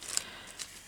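Scissors cut paper for a handmade journal in a couple of short, crisp snips, quiet and close.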